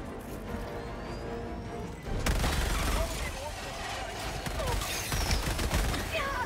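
Explosive artillery shells from a stratagem strike in Helldivers 2 burst in a dense, rolling barrage of booms and crackling gunfire that swells after a quieter start and continues loudly to the end.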